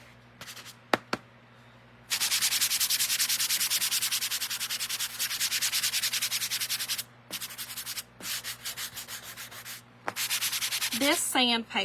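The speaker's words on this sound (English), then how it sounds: "let me sand this red down a little bit." Close, rough scraping of a well-used sanding block on red paint on a round wooden door sign, in fast rhythmic strokes, running in long stretches broken by short pauses.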